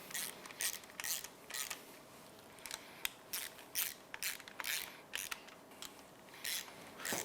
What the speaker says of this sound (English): now we need to use our flange mounting bolts to go ahead and pull the housing all the way in